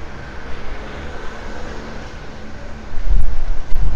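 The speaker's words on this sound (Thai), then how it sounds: "โอ้ตอนนี้ครับข้างนอกลมแรงมากครับแรงเกินแรงมาก" Typhoon Hagibis drives strong wind through Tokyo, heard as a constant low roaring rumble that swells into a louder gust toward the end, with no voices.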